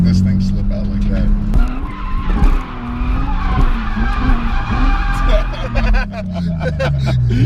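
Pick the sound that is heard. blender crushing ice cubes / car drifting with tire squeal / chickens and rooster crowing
car drifting with tire squeal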